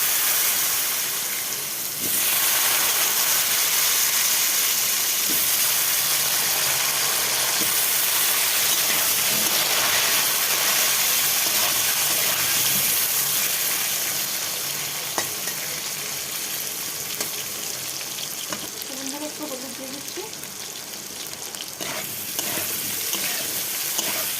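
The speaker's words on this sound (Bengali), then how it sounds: "আলুগুলো ভেজে নিচ্ছি এই তেলের মধ্যে" Potatoes frying in hot oil in a home Bengali kitchen, a steady loud sizzle and hiss with occasional stirring, continuous throughout with no talking.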